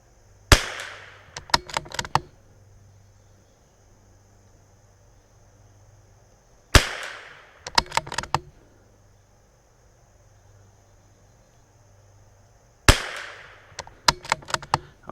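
A CZ 457 rifle fires three separate sharp shots spaced roughly six seconds apart, each crack followed by a brief rattle of echoes or action noise, with quiet outdoor background between.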